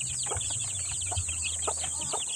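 Shamo chickens on a poultry farm give a run of soft, repeated clucks and short calls over a steady background hum, fairly close and continuous.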